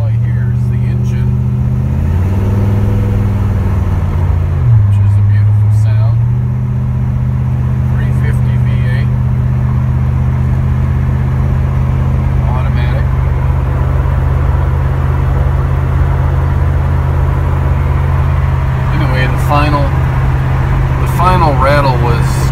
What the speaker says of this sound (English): All I hear is the engine.